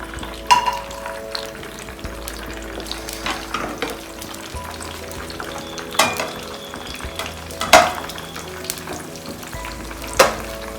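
Onion and chillies frying on a tawa, a soft steady sizzle broken by sharp spatula scrapes and clanks against the metal, close and fairly quiet, no talking.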